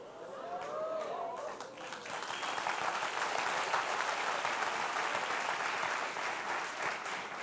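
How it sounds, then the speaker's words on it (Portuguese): Sustained audience applause in a church or religious gathering swells after a brief moment of voice and carries on as dense, even clapping, loud and continuous to the end. "Essa salva de palmas foi assim, tipo,"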